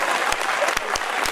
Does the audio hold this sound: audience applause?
yes